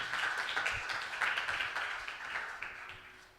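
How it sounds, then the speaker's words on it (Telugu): A church congregation claps their hands to glorify God, a steady patter of many hands heard from a distance that slowly fades. "చప్పట్లు కొట్టి దేవుని మహిమపరుస్తాం."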